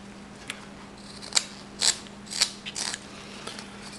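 A knife carves wood on a pelican figure, giving several short, crisp scraping and shaving strokes at uneven intervals, close and fairly quiet over a low steady hum.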